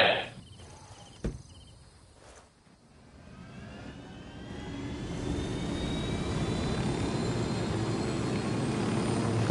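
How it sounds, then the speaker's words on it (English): Helicopter in a PS4 video game, its engine and rotor drone swelling from faint to a steady, loud wash that holds to the end after a sharp knock near the start. "No, get over here, helicopter."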